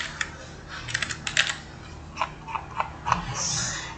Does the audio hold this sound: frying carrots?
no